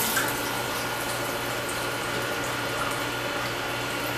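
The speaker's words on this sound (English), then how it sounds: "we're going to fill one glass with ozone water, one glass with tap water" Ozonated water pours into a drinking glass as a steady, close splashing rush with no talk over it.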